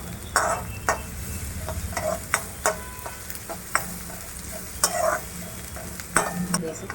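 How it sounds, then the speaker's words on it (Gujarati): Sambar base for dosa sautéing in a pan, a steady close sizzle broken by repeated sharp scrapes and taps of a spoon as it is stirred, with no talking. "હવે પછી 5 મિનિટ એને સતળવા દઈશું"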